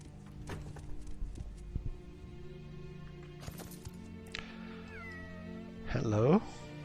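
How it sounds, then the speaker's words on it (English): Cat meowing in the game Morrowind, a few faint rising meows from a distance inside a tavern, then a louder wavering caterwaul near the end over a low ambient hum. "There's a cat."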